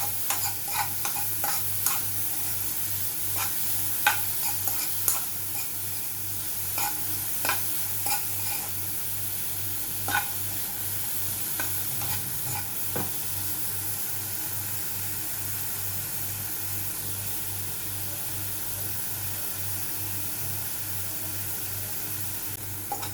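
A corn mixture with coriander-cumin powder and salt sizzles steadily in a hot pan. A spatula stirs it with scattered light scrapes and taps, and no one speaks.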